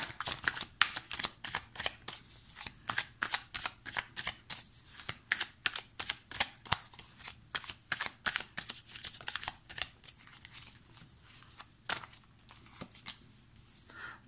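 Tarot cards are shuffled by hand in quick, continuous riffling bursts, crisp papery flicks repeating rapidly and close up with no talking.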